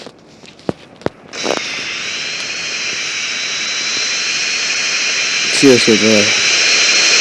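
Airplane engine in the video game GTA, set over Los Santos: after a few sharp clicks, a loud jet engine roar rises and holds steadily, with a brief voice speaking near the start and a short burst of louder sound near the end.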